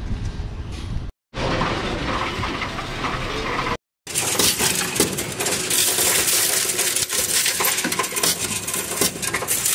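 A mass of coins is poured into a coin counting machine, making a dense, loud metallic clatter and rattle that runs almost continuously, broken by two brief silent gaps near the start.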